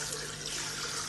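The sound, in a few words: water being poured into a pressure pot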